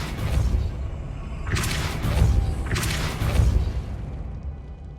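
A Depulso force spell cast in Hogwarts Legacy: two airy whooshing blasts with low thumping booms, about a second apart, over a steady rumbling game background, with no talk.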